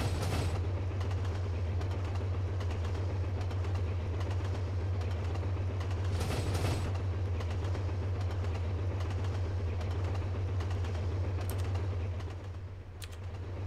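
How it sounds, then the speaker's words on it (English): A train in the Trainz simulator runs far too fast along its track, giving a steady loud low rumble with continuous rail clatter and brief swells of noise, fading slightly near the end. "it's been about an hour of cruising in trains way too fast than the track was designed to handle"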